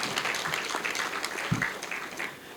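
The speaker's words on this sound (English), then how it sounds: "please give all women of this country a big round of applause again" An audience at a charity foundation launch gives a round of applause, a steady wash of many hands clapping, moderately distant and fairly quiet, with no speech over it.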